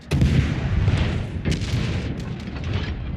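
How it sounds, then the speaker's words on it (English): Heavy naval guns boom in World of Warships Legends, a loud dense rumble of cannon fire with repeated sharp reports layered over a sustained low roar, no speech. "Marlboro firing at you"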